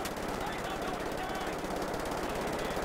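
Rapid sustained automatic gunfire from the video game Wolfenstein The New Order, a dense continuous burst of shots filling the whole moment, loud and close.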